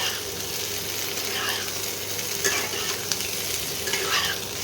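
Potatoes and cauliflower frying together in oil make a steady, close sizzle, with light stirring scrapes over it throughout.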